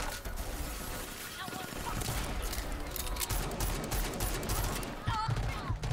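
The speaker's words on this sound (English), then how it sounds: "Somebody's shooting at me." Rapid video game gunfire in RAGE 2, shots aimed at the player, crackles in dense bursts over a busy game soundtrack, with a voice talking over it.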